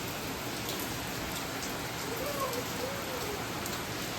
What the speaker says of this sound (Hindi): तेज़ बारिश हो रही है बेटा